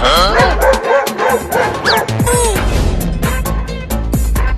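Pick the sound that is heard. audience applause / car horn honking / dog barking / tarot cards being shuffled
dog barking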